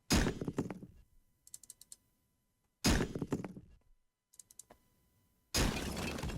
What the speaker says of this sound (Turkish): Şimdi bu duvarı bir kıralım bakalım.